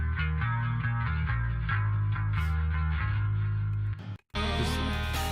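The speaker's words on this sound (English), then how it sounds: "we got some chorus on there. And delay and reverb." Electric guitar drenched in chorus, delay and reverb, playing a sustained, shimmering run-through with steady bass and drums underneath, loud and continuous before a brief drop-out and return.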